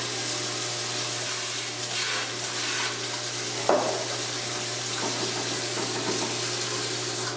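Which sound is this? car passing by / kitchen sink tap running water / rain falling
kitchen sink tap running water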